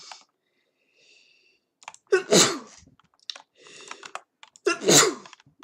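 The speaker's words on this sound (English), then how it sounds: "So if you guys do hear a lot of sneezing, it's because I'm sneezing." Two loud, close sneezes from a person, each with a sharp intake and burst, separated by a pause with faint rustling and mouth sounds in between.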